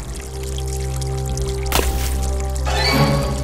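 Water splashes and pours as a cartoon character washes its face in a river, a brief splash midway followed by a louder stream of running water over a steady background.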